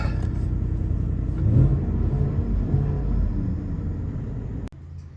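A 2024 Ford F-150 single cab fitted with an MBRP S5211 cat-back exhaust idles and takes a little throttle, heard from inside the cabin as a steady low rumble that swells briefly before cutting off near the end.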